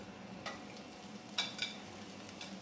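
Chopped ginger goes into a hot pan with mustard seeds and fennel, giving a faint steady sizzle with a few light stirring taps, quiet and close.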